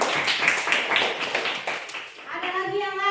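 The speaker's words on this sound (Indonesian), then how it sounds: "Tepuk tangan untuk Marsha dulu." Pupils in a classroom clap for a classmate, a close burst of quick, bright claps that fades after about two seconds, after which a voice begins speaking.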